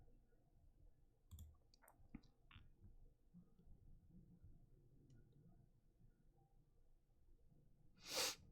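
A few soft keyboard and mouse clicks come in a short scattered burst over a quiet room hiss with faint breathing-like noise, and one louder rustle near the end.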